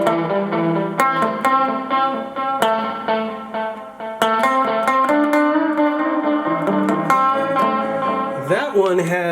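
Electric guitar played through a Strymon Timeline pedal in dual delay mode, with picked chords and notes trailed by layered repeats and a touch of built-in reverb, alone and fairly loud.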